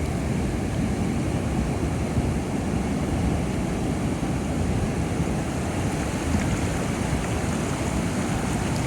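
Steady broadband roar of sea surf on the Konkan coast in the rainy season, waves washing in continuously at close range with wind noise, no voices.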